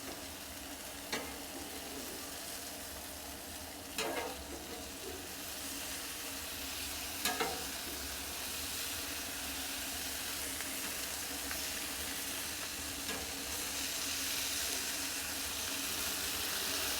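Birria quesa tacos with onions and cilantro sizzle steadily on a Blackstone griddle, a continuous close hiss with a few scrapes and taps from a spatula, no voices.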